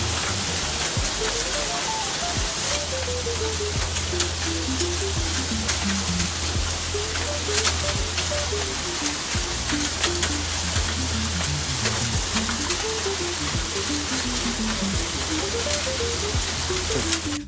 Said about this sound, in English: we had hail this week.